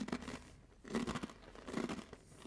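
Crisp crunching and chewing of sesame butter rice crackers, close and fairly quiet, in a few bursts of crackly bites with short pauses between them.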